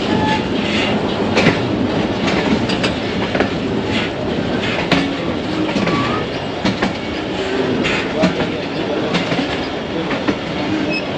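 HBU20 shunting locomotive and its cars rolling past on a railway line near Lahore, a steady close rumble with continuous clickety-clack of wheels over rail joints and faint metallic squeals, with no voices.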